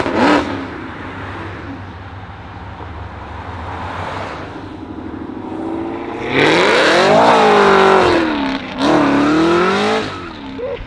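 At a cars and coffee meet, a car pulls out hard with a loud engine surge that climbs through the revs, shifts and climbs again, close and dominant over steady crowd and idle background noise.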